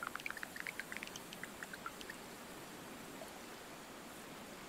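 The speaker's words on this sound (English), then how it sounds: "So that's giving us rain." Rain falls in the video game Terra Nil as a steady soft hiss of noise, with a scatter of light droplet ticks and chimes near the start that fade out, leaving even continuous rainfall.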